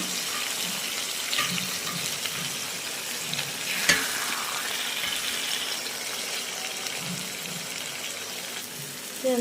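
Taro paste seasoned with turmeric and salt fries in a pan with a steady, close sizzle, broken by faint stirring scrapes and one sharp clink midway, with no talk.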